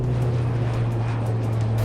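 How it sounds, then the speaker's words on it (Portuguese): Airplane engine drone, a steady loud low roar with constant hum throughout, no voices. "Este é um avião."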